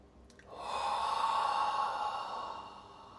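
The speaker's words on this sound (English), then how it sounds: "Take a deep inhale, please." A single deep inhale taken during a guided meditation, a soft breathy rush of air that swells gradually, holds steady for over a second, then tapers away, close and quiet with no talking.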